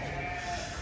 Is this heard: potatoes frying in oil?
no